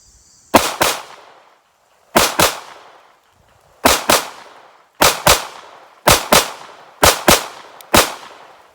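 Pistol shots from a SARUSA B6C fired as control pairs at a target on a range: six loud, close double shots, each pair quick and sharp with a short gap between pairs.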